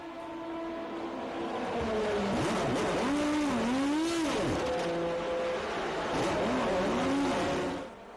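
A Pescarolo race car pulls out of the pits in the 2005 Le Mans Endurance Series, its engine loud and close, revving through rising and falling gear changes that sweep up and down over several seconds.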